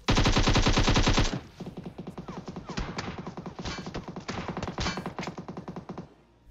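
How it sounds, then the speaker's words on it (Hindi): Automatic gunfire in the PUBG battle-royale game: a dense, loud burst of rapid shots, then repeated shorter volleys and single cracks trading back and forth, with no talk. "वो भी धैड़ पैड गोलियां पेल रहे हैं"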